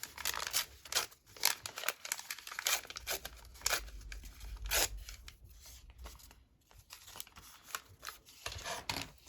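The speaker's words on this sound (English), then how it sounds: "Tear that off." Paper torn up for a junk journal, heard up close as a run of quick crisp rips and crinkles in irregular bursts, fairly quiet, with no talk.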